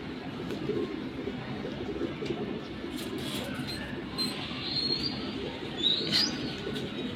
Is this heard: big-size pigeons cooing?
yes